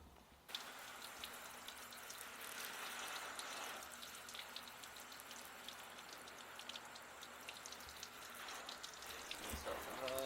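A garden hose sprays water onto the soft top of a Jeep Wrangler JK, giving a steady hiss and patter of water hitting fabric that runs close and continuous, with a few small knocks near the end.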